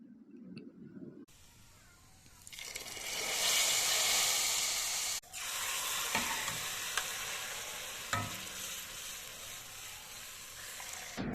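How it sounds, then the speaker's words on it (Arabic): Garlic taqliya hits a pot of molokhia with a sudden loud, hissing sizzle that swells and then settles into a steady frying crackle, with a few sharp pops near the end. "وهي كده جاهزة إن هي تعمل معانا أحلى صوت للطشة وأحلى طعم الملوخية"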